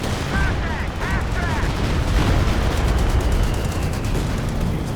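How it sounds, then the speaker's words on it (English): Stuka dive bomber barrage in Company of Heroes 2, a dense continuous rumble of explosions and gunfire with a brief descending whistle early on, loud and sustained, with a voice talking over it. "Stuka barrage coming in."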